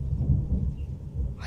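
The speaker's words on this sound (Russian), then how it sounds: "у нас гремит и снова дождь пошел" A deep, rumbling roll of thunder, heavy and continuous in the low range, with no voices.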